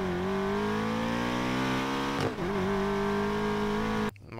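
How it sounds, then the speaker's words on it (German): A BMW engine revs in the Need for Speed Payback racing game, a loud steady whine that climbs in pitch, dips briefly midway, rises again, then cuts off near the end. "So, Motor starten."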